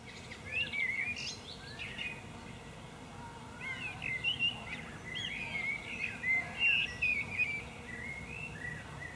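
A small black bird chirps and whistles in a series of bright, quick calls, clustered at the start and more densely in the second half, over a steady low background hum.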